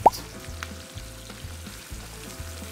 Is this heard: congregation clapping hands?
no